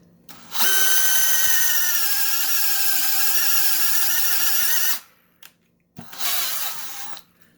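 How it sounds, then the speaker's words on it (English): A DeWalt drill drives a bit through wood, a loud, strained high-pitched whine held for about four seconds, then a brief pause and a shorter second burst. "The DeWalt did struggle a little bit more, or you could hear the drill working harder"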